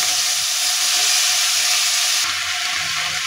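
Chopped spring onions and vegetables hit a pan of fried spice paste, setting off a loud, steady sizzle of frying with a hissing, steamy wash that continues without voices.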